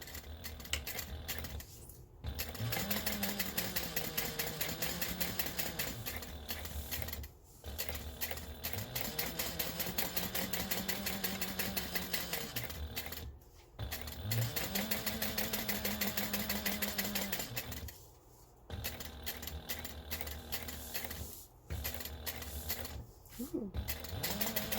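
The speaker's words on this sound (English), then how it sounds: "I'm going to go ahead and baste around my slip pocket to attach it to the lining." Sewing machine basting a slip pocket to a bag lining, running in long steady bursts with short pauses between them, close and fairly loud.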